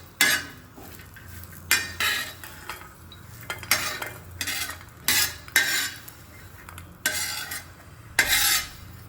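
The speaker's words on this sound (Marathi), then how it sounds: "गॅस बंद करून थोडा वेळ फिरवूया।" Green chilli thecha, a spicy Maharashtrian chutney, is stirred in a pan with the gas turned off, giving repeated scraping strokes of a spoon against metal with light clinks in a steady rhythm, close and fairly loud.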